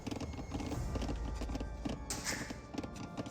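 Horse units in Age of Empires 2: Definitive Edition, with camels chasing a horse, make a busy, steady patter of hooves mixed into dense battle noise, with no talking.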